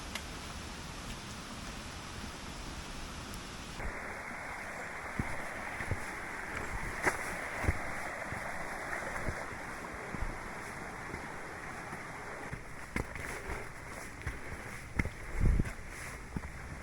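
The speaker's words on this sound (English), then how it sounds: "So that was worth it, seeing the Clough waterfalls." Waterfall at Clough in the Peak District, a steady broadband rush of falling water with wind gusts and occasional knocks, heard close and continuous with no talking.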